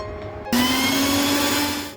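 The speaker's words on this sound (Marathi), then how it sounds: "भाजून झाल्यावर ते हे मिक्सरमधून वाटून घ्यायचं आहे" A kitchen mixer grinder starts abruptly and runs at a high, steady whine, grinding oil-roasted cloves and black peppercorns into masala for misal. The motor roars loud and close for about a second and a half, then stops.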